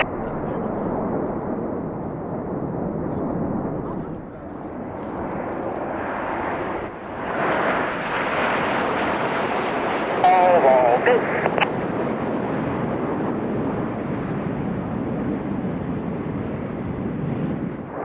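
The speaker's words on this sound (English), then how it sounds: "Each aircraft will perform a barrel roll followed by inverted flight in a manoeuvre we simply like to call the crossbow." A jet aircraft flies a barrel roll into inverted flight at an air show, a continuous broad roar mixed with wind buffeting that swells slightly partway through and holds steady throughout.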